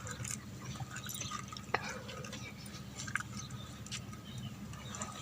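Fresh fish being washed and cleaned by hand with water for a fish curry in a home kitchen, a steady wet sloshing with a few sharp drips and splashes, close and fairly loud, with no talk.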